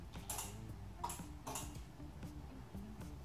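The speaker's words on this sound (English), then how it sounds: "the machine does not move and all we hear is a click." An Overhead Door garage door opener clicks faintly over and over when the wall button is pressed, but the door does not move. The sharp ticks come at a steady, closely spaced rhythm.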